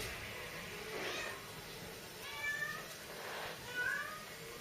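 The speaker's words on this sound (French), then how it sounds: "Vous aurez un petit peu de musique de chat comme ça pendant la vidéo." A house cat meowing indoors, a few faint drawn-out meows spaced a second or so apart over quiet room tone, with some background sound.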